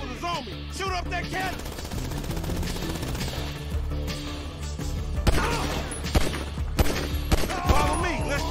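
Gunfire in the video game GTA V: dense, rapid bursts of shots crackling over a busy game soundscape, growing sharper and louder toward the end, while voices talk over the action.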